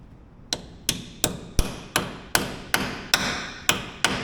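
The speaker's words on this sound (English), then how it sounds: "So we're going to tap it in there with a hammer." A hammer tapping a wrench into place during fluid changes on a Polaris Sportsman 450 ATV, ten crisp metallic strikes at a steady rhythm, loud and close with no voices.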